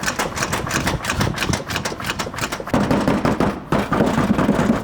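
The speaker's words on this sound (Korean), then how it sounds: "뭔가 덜렁덜렁거리고 있어요." A car tailgate being opened on a vehicle with signs of past accident repair gives off loose, rapid rattling and clattering from inside the panel, a dense run of irregular ticks and knocks heard close up.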